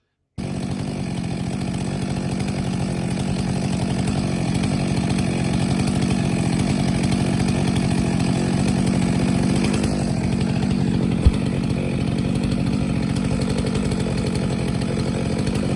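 A chainsaw runs at steady high revs for the whole stretch, bucking felled December tree trunks into firewood lengths, a loud, continuous engine drone with no talking.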